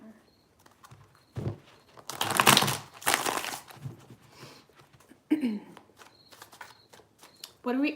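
Tarot cards are shuffled by hand in several quick riffling bursts, crisp and close, between stretches of a voice talking.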